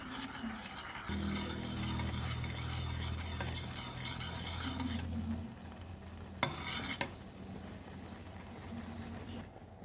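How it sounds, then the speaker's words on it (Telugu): A milk and flour mixture for a temple prasadam offering is stirred steadily in a pan until it thickens, giving a continuous soft scraping with a few light metallic clinks of the spoon and no talking. "కలుపుకోవడము దగ్గర పడేంత వరకు కలుపుకోవాలి"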